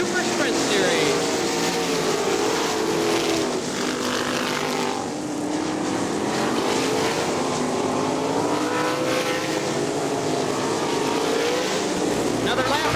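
410 sprint cars of the Auto Value Super Sprint Series race around Crystal Motor Speedway in Michigan, their engines a continuous loud, dense roar with rising and falling laps, under a commentator's voice.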